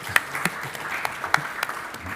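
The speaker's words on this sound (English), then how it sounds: "Also deserves a round of applause." Light applause from a conference audience at a panel on arms control and disarmament, sparse scattered claps with a few sharper hits, fairly faint and brief.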